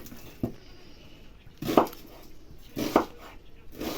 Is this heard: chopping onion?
yes